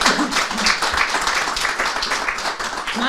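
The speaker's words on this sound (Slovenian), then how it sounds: "Hvala lepa, res en aplavz" A studio audience at a talk show applauds with full, energetic clapping, close and steady throughout, with the occasional voice mixed into the crowd.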